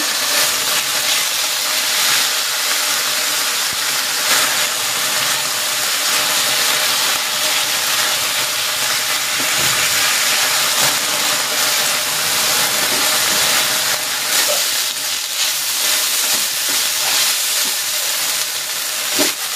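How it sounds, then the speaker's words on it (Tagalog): Chicken pieces fry in a pan for teriyaki chicken fried rice, a loud, continuous close sizzle and hiss that holds steady throughout, with no voices. "Next, isasalang ko naman itong chicken."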